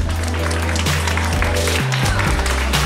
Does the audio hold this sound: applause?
yes